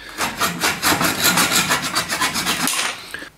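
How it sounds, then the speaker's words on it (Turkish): A hand saw cuts through a wooden dowel in quick, even back-and-forth rasping strokes, close and loud, stopping near the end. "Testere yardımıyla kestim."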